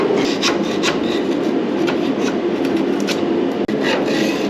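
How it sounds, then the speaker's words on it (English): A screwdriver scrapes out the old door seal of a wood stove in a continuous, close, gritty rasping rub that keeps up its steady scratching without a break. "Nothing like using a screwdriver that costs more than a little cheap chisel to get stuff out."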